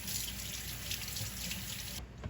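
Tap water runs steadily into a sink while a small tomato is rinsed under it for a burger, a constant close splashing hiss that continues without pause.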